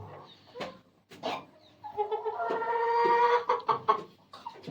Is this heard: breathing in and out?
no